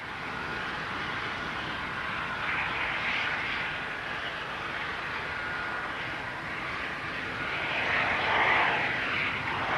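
Boeing 747 carrying a space shuttle on its back in flight, a steady broad jet-engine roar that holds loud and constant throughout, swelling slightly near the end.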